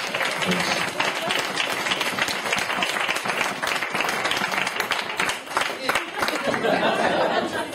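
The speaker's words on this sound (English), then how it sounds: "So have a round of applause for our beautiful bridesmaids." Wedding guests applaud the bridesmaids with steady, lively clapping and chatter from a crowd indoors, continuing for several seconds with a few cheers mixed in.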